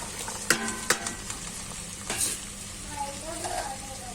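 Carrots and beans sautéing with curry leaves in a pan for vegetable pulao, a soft steady sizzle broken by a few sharp clinks of a spoon stirring against the metal.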